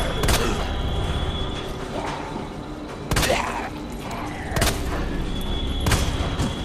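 Gunfire against zombies in the Resident Evil 2 remake, four sharp, loud single shots spaced a second or more apart, each leaving a short echoing tail over a steady background of game ambience.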